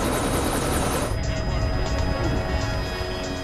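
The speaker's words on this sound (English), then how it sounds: "They've taken the machine guns off our chopper to make it go as fast as possible." Military helicopter in flight over the Swat Valley with its machine guns removed, heard from inside or close by as a loud, continuous rotor and engine roar that keeps going steadily throughout.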